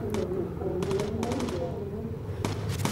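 Rapid machine gun bursts from the turrets of a Lancaster bomber in the Bomber Crew video game, several short rattling volleys over a steady engine drone, with voices talking over the fire.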